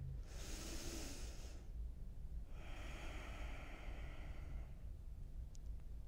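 Two deep, full breaths drawn in and released during a seated chair yoga session, each one a broad airy rush lasting about a second and a half, close and soft, with no talking.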